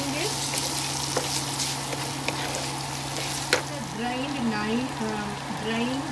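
Bamboo shoot stir-fried in a pan with a pinch of salt while making Pad Thai, a steady sizzle with scraping stirs and light clatter throughout, a voice talking faintly underneath.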